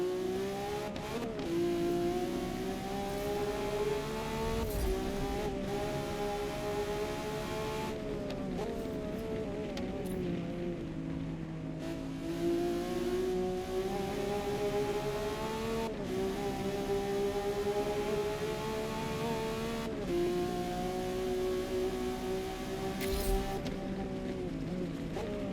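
A Lamborghini Revuelto driven in the Forza Motorsport video game, its engine droning steadily with rising and falling revs under a constant rush of wind noise, occasional brief tire or shift blips.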